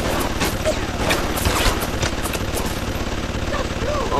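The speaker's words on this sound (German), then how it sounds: "Und das schießt jetzt auf Gegner" Rapid gunfire aimed at enemies in the video game BioShock forms a dense, continuous rattle throughout, with people talking over it.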